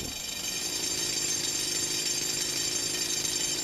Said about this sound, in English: Always keen, Kurban takes charge of the pneumatic drill.